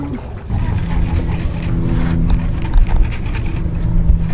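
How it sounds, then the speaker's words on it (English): An Evinrude trolling motor pushes a jon boat across a lake, giving a steady low motor hum with water noise that holds at an even level near the mic throughout. "We're going back with the Evinrude trolling motor."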